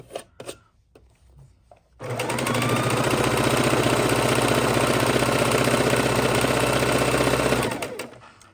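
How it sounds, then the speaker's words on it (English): A Singer heavy-duty sewing machine stitches layered quilting fabric strips, starting after a few handling taps and running at a fast, even, loud whir with rapid needle clatter for about five seconds before stopping. "this machine, it is a Singer heavy duty"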